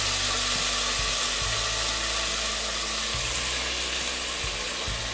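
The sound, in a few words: chopped mixed vegetables frying in oil with cumin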